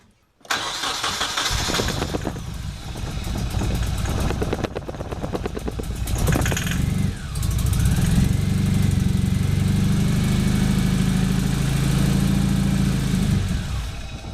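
A Nissan 240SX engine with a failed fuel pump cranks repeatedly with a loud, steady whirring churn, sputtering on starting fluid as it tries to catch, then settles into a rough rumbling drone, close and continuous.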